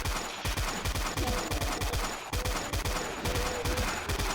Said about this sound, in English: let's switch over to the chain gun